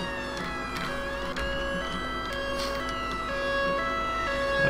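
A wailing British police siren from an unmarked Volvo V40 in the game LCPDFR sweeps up and down continuously, its electronic tones steady and fairly close, with a faint engine rumble underneath.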